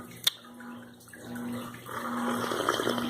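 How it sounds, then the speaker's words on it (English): Aquarium water running like a small fountain, a soft continuous trickle and splash heard indoors, faint and steady, with a brief sharp knock near the start. "It's really the aquarium, but it sounds like a water fountain."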